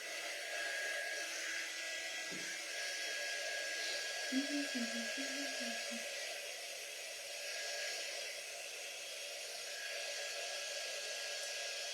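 A hair dryer blows steadily on a fresh coat of paint, a constant airy whir at moderate level with a faint voice-like sound in the middle.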